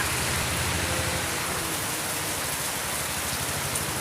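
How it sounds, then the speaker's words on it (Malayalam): Heavy rain pours down in a steady, dense roar with no letup, close and loud, with no voices. "നല്ല ഒതുക്കത്തെ മഴ"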